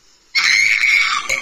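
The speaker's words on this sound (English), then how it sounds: "Oh no, that's screaming." A person screams loudly at a drinking glass, trying to shatter it with their voice; one sustained, piercing shriek bursts in after a quiet moment and holds at full strength.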